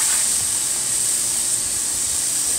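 Burger patties sizzle in a hot pan, a steady bright frying hiss that stays loud and unbroken throughout, close up with no talk.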